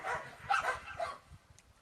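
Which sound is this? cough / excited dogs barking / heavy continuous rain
excited dogs barking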